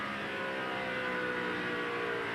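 A race car on a lap of an oval at the 2002 Pennsylvania 500, its engine holding a steady, loud, high-revving drone with no break in the sound.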